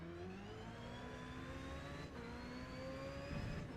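Race car engines in the video game Gran Turismo 7, a faint steady whine of several engines with pitch rising through gears as cars exit a turn, one brief dip in the middle, no voices.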